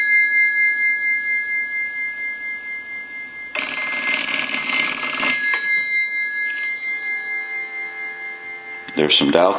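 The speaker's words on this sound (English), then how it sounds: "There's some dial tone" Steady dial tone from a Northern Electric Galion rotary desk telephone under repair, a continuous hum interrupted midway by a louder burst of broadband clatter and ending with a short rattle.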